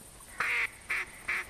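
Ducks in a video game let out three distinct quacks, evenly spaced and fairly loud, over a low, quiet background.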